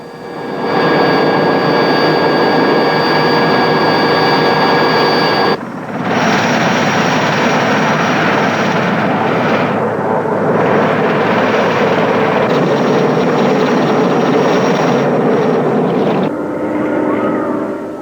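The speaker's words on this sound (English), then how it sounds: "helicopters ferry supplies to key points along the strike" Military helicopters ferrying supplies to key points along the front in the Angolan border war, with a loud, continuous rotor and engine drone throughout and a brief break midway.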